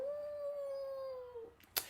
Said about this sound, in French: tu vois un coyote ou un loup qui hurle à la lune